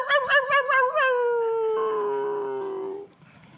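A voice imitates a neighbor's dog howling on a porch: a few quick wavering yelps rising into one long, loud sustained howl that slowly fades out, heard alone and close.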